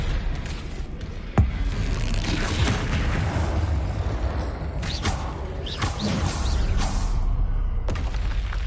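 Spell effects from the Hogwarts Legacy video game, with dense whooshing magical bursts, a sharp boom near the start and swelling rumbles layered over continuous game ambience, loud and steady throughout.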